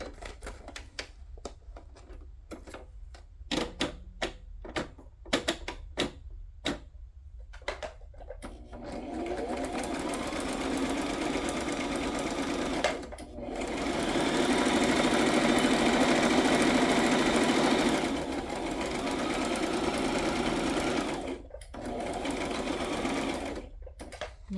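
A sewing machine stitches around a paper craft piece, first in short bursts of whirring separated by pauses, then in longer continuous runs, close and fairly quiet with no talk.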